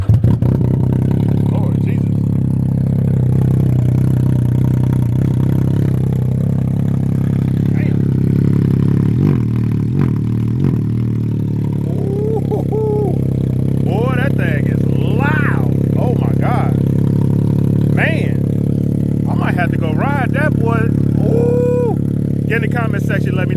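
A Can-Am Ryker three-wheeler runs with its exhaust removed, giving a steady, loud, low engine rumble. Someone talks over it, and a few clattering sounds come and go.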